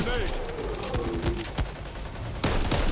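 A minigun in Back 4 Blood fires in a steady stream of rapid shots under game noise and a shout, with a heavier burst near the end.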